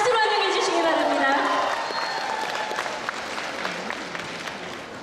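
Audience applause welcoming a singer at a Korean entertainment arts awards ceremony, loud at first and slowly fading, with a voice speaking over the clapping early on.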